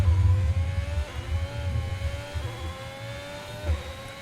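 An F1 car in F1 2021 accelerates hard, its engine note rising in a high, steady whine through the gears, loud and close, with a brief gearshift blip near the end and no talk.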